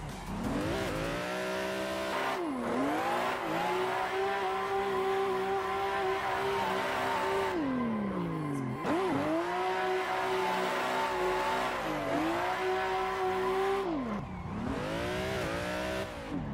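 A drift race car in a racing game, engine revving and falling through gear changes while the tires squeal in long slides, loud and continuous for the whole stretch.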